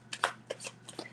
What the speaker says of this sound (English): I just got, as I'm shuffling here, the Eight of Swords reversed flipped out.